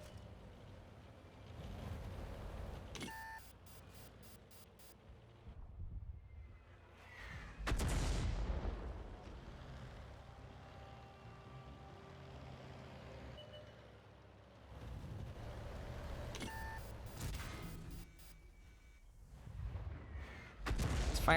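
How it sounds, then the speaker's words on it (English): A tank cannon fires HEAT rounds at a Super Hellcat in an arcade-mode tank game, heard as a few heavy, booming blasts spaced several seconds apart with rumbling low end between them. "Why is he firing heat at a super Hellcat?"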